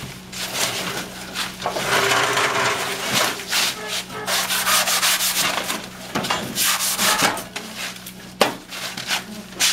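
A handsaw cuts through wood, running as a continuous, fairly loud rasping stroke with short breaks between strokes. No one speaks over it.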